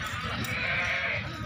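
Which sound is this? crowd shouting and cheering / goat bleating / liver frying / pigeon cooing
goat bleating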